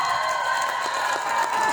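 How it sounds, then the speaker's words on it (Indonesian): Sustained audience applause and cheering at a women's organisation congress closing, a steady dense clatter of many hands filling a large hall. "Saya tidak tahu tepuk tangan ini menunjukkan bahwa itu sesungguhnya aspirasi"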